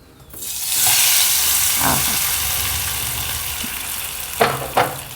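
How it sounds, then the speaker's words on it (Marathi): Hot tempering of cumin, asafoetida and curry leaves is poured over methi chila batter, a sharp burst of sizzling that holds as a steady close hiss, with a couple of faint clinks near the end. "मस्त अशी ही चरचरीत फोडणी झाली आहे आणि आपण ती त्याच्यावर आता घालूया"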